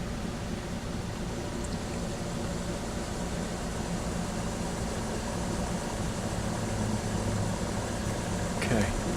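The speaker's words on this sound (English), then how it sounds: "Let me start the motor." An electric motor with Hall effect feedback, powered from a 15 volt supply, runs with a steady, even hum and whir throughout, and a voice talks over it.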